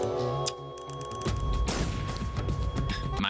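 Gunfire and mechanical weapon sounds from the video game Metal Gear Solid 3 crackle in a dense burst of rapid shots and booms, loud and continuous over a backdrop of game tones.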